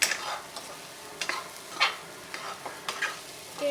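Egg fried rice is stir-fried in a pan: irregular scraping strokes of a spatula over a faint, steady sizzle, heard up close at low volume, with no voices.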